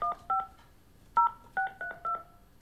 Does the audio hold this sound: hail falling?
no